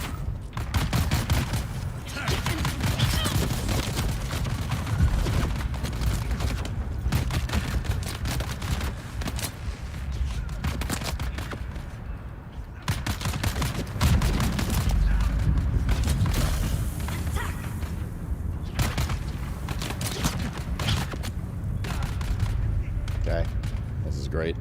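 Rapid bursts of gunfire in the Dune video game during a deep-desert endgame session, dense and continuous with a short lull midway, running under steady talk.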